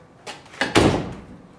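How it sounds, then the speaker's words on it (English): A door is pushed shut in a house, giving a soft bump and then a louder thud with a short rumbling tail, close by and alone. "That was you shutting the door."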